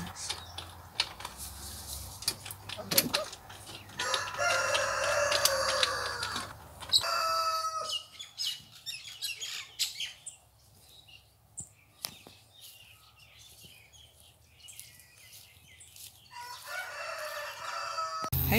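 Homestead chickens and a rooster, with crowing and soft clucks scattered through a busy outdoor backdrop, mid-distance and moderate in level, with clicking and shuffling noises and a brief shift in ambience partway through.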